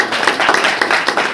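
A church congregation at a prayer meeting claps in a quick, steady rhythm, loud and close, with no talk.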